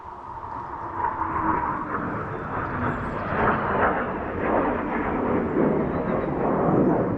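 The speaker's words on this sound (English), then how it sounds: "Probably no F-15s flying overhead when they last worked on these." Fighter jets, F-15s, roaring overhead above a quiet outdoor spot, a loud, sustained broadband rumble that swells and holds for several seconds.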